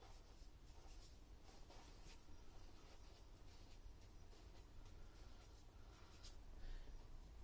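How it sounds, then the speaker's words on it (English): Marker or chalk writing on a board, steady scratchy strokes running continuously with short squeaky accents, close and moderately quiet with no talk. "Now I'm going to write on here"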